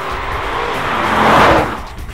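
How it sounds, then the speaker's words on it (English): Jaguar F-Type V8S with its supercharged V8 barking through quad exhaust pipes, a loud, close roar that swells to a peak around the middle and then eases off, with no talk over it. "The shattering engine note complements the V8S's performing, which is well shattering too."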